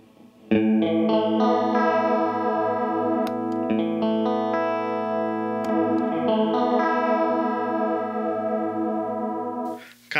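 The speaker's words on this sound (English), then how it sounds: "And then the deep one is actually a little more intense," Electric guitar chords played through a Digitech Whammy's deep detune chorus setting ring out with a thicker, more pronounced warble, strummed steadily for several bars, close and alone.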